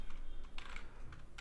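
Quick clicking keystrokes on a computer keyboard, a close, moderately loud run of a few taps with brief pauses, heard alone without talk.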